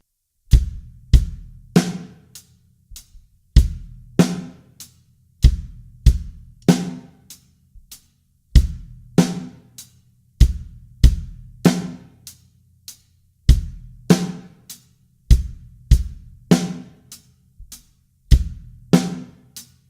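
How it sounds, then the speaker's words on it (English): A full drum kit plays a simple beginner groove: kick drum, snare hits and steady hi-hat combine in a repeating pattern, loud and close with no talking. "So if we combine all of the drums together, it would sound like this."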